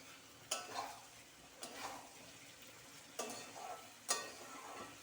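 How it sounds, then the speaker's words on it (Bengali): Fried potatoes are stirred into masala for vegetarian Kashmiri dum aloo, producing four quiet scraping strokes of a spoon against the pan over a low, faint sizzle. "মশলার সঙ্গে আলুটাকে খুব ভালো করে মিশিয়ে নিয়ে আবারও কষিয়ে নিতে হবে"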